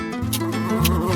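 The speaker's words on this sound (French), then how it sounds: "les abeilles" Bees buzzing close by around a dish of frozen honey jelly, a steady droning hum with pulsing tones and a few sharper bursts, heard alone.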